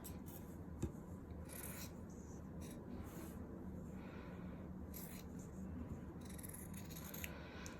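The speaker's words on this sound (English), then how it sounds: "now we're gonna cut the fabric with our fabric scissors" Fabric scissors cutting through fabric, a series of faint, close snipping and rasping cuts in an irregular rhythm, with no voices.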